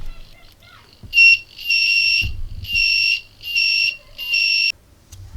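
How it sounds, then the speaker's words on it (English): A cheap electronic sensor module's buzzer sounds loud and shrill in five bursts, each about half a second long, close to the listener, with short silent gaps between. "the full channel is activating the buzzer"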